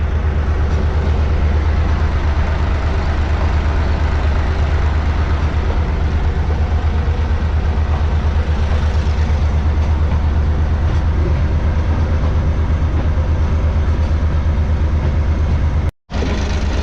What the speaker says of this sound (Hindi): थोड़ा बहुत ट्रैक साउंड जो है वो हम एंजॉय कर लें